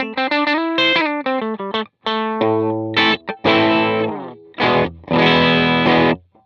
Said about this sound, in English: This design takes cue from modern and vintage versions of a popular EL84 driven tube amp.